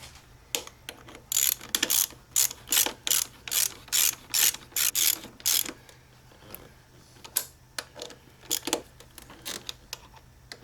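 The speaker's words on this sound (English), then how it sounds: "Now we can tighten down the handlebars." A ratchet tightens the handlebars on a 2008 Kawasaki Concours 1400 in bursts of quick, crisp clicking, close and loud, separated by short pauses as the tool is repositioned.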